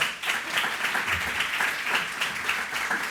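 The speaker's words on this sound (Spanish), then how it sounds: "merecen todo el aplauso" A congress audience applauds after a presentation, a steady, fairly loud wash of many hands clapping that holds its level throughout with no voices over it.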